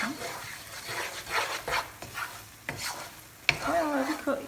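Flour roasts in melted butter in a pan for an Albanian three-ingredient dessert, with a spoon stirring and scraping in repeated soft sweeps over a quiet, faint sizzle, close by and low in level.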